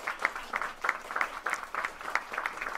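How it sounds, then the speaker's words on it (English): Several people clap together in a short, steady burst of applause at moderate distance, with no talk over it. "We've never clapped for that."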